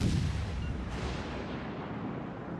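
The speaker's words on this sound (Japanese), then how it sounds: "イギリス巡洋艦からの砲撃痛いですね。" Heavy naval gun shelling from a British cruiser in World of Warships on PS4, a booming blast with a long rumbling tail that fades slowly, with no talk over it.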